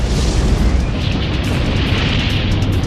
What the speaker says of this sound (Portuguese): Haverá uma enorme explosão.